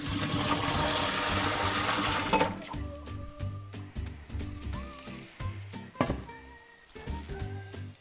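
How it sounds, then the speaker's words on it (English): Water gushes out of a pot used to blanch tomatoes in a loud continuous pour for a couple of seconds, then trickles and drips with clinks of the pot being handled. "I'm just gonna pour the water out."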